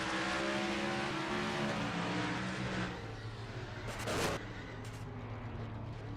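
The onboard engine of the No. 42 race car of Cal Weathers on a superspeedway, a steady high droning roar at moderate level that dips partway through, with a brief burst of rushing wind noise.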